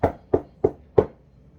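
Someone knocks on a door four times at an even, unhurried pace. Each knock is a sharp, fairly close rap, followed by quiet.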